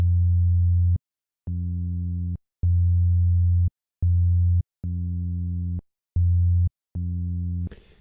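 A Kilohearts Phase Plant synth plays an FM tone in a series of seven short, clean pulses with gaps between them, alternating between two timbres, followed by a brief burst of noise at the end.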